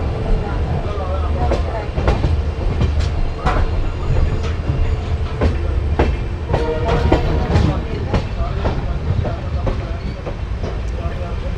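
The Amritsar–Bikaner Super Fast Express rolls along near Ferozepur, with a continuous rumble and repeated clickety-clack wheel beats and rattles heard from on board, loud and steady throughout.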